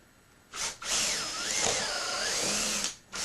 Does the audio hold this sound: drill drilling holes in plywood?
yes